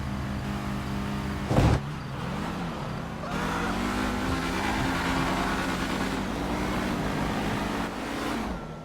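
A Pro Mod drag race car in GTA V drones with a steady engine note for several seconds, with one brief sharp burst near the start and layered harmonic whine throughout, loud and continuous.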